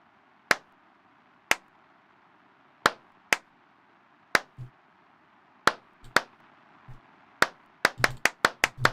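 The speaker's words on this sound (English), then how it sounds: "I have to keep clapping?" Claps in the horror video game Clapism land one at a time as sharp, isolated strikes with gaps between them. They start sparse and irregular, then come quicker and closer together toward the end over a quiet background.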